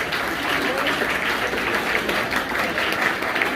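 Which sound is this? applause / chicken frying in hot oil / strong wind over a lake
applause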